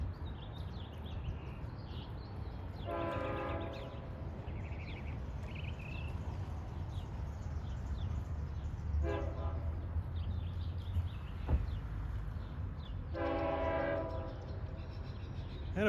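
A long Montauk summer train passes, its horn blowing in three distinct sustained blasts over a steady low rumble of rolling cars, heard from trackside.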